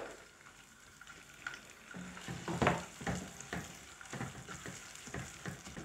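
Rice fries in melted butter and oil in a pan and is stirred, giving a steady sizzle broken by scraping, clattering stir strokes that come close and loud around the middle.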